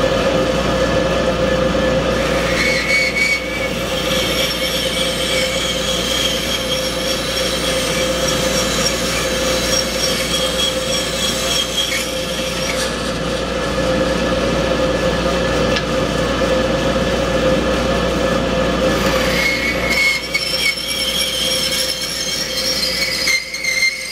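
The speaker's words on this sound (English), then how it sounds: "Make some noise here, turn air on in the saw." Saw cutting ash wood with its air running, a steady loud mechanical roar with a whining hiss that holds throughout, swelling slightly around two passes of the cut, no talking.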